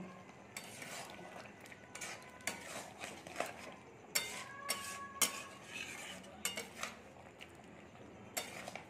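Shukto vegetables cooked with ghee are stirred in a pan, the spatula scraping and clanking against the metal in irregular bursts over a soft background sizzle, fairly quiet overall with no voices.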